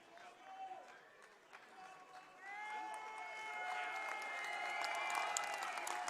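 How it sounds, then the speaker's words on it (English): Crowd ovation in a gym at a high school basketball game between SF Waldorf and Valley Christian for a player subbing off, a steady murmur of cheering and clapping building and holding loud over several seconds. "Getting quite the ovation from the crowd."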